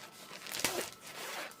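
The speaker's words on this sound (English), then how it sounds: "you have the resealable plastic bag" A resealable plastic bag holding fabric and embroidery floss is handled up close, with soft crinkling and one brief crisp rustle, faint and quiet.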